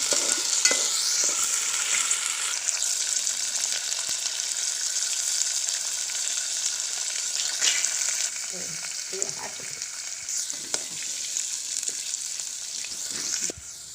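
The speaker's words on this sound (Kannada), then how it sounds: "ಸ್ವಲ್ಪ ಬಟಾಣಿ ಫ್ರೈ ಮಾಡ್ಕೊಂಬಿಡೋಣ." Green peas frying and being stirred in a pan for a cabbage masala curry, a steady bright sizzle running throughout with scattered scraping stirs, close and fairly loud, no voices.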